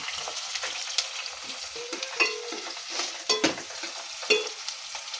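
Onions fry in a pan with a continuous crackling sizzle, broken by repeated scraping stirs of a spoon that come in irregular bursts, close and clear, with no voices.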